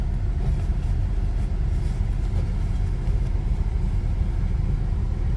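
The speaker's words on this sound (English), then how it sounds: "So I'm idling right now after driving it a few miles out here." A 1993 Nissan Pathfinder XE V6 idles after a short drive, a steady low rumble with an even, continuous engine drone close by.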